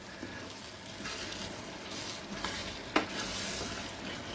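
Mango pickle (manga thokku) being stirred in a pot, a steady soft sizzle with a few sharp scraping clicks from the spoon against the pot, moderately close with no talking.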